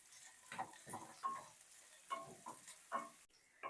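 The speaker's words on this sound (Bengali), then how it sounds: "লঙ্কা আর পেঁয়াজটা দেওয়ার পর এই দুটো ভালো করে তেলের সাথে ভেজে নেব" Chopped onions and slit green chillies fry in oil as they are stirred in a pan. The sizzle is soft and steady under regular scraping stirring strokes, with no talking.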